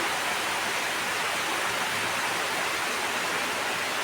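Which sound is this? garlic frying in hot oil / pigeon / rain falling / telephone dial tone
rain falling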